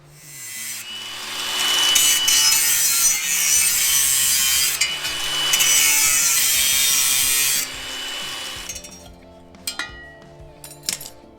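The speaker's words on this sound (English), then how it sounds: "Quick run through the English wheel, we'll just finalise that right off." Sheet metal for a Ford Landau Hardtop Coupe front sill rust repair rolls back and forth through an English wheel, making a loud, rasping, rolling scrape in long sustained passes, then stopping, leaving a few light metallic clinks.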